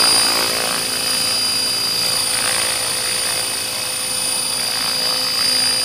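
A model AH-1 Cobra helicopter on a test maiden flight gives a steady, close whine with a high tonal buzz that holds throughout at even loudness.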